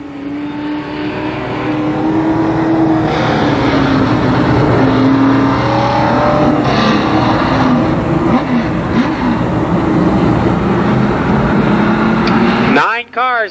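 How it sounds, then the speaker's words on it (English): Late model stock cars circling a Columbus Motor Speedway oval in a 10-lap heat race, a loud continuous engine roar with rising and falling pitch, an announcer talking over it, ending with a car sweeping past. "Cars, they'll go at it for 10 laps. The second heat race in the late model division."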